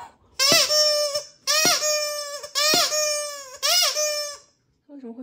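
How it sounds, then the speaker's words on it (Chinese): A large air-bladder squeaky dog toy being squeezed, giving four loud, long, honking squeaks in a steady rhythm, close up, followed by a faint short sound at the end. "我是头一次见这么大的气囊发声玩具"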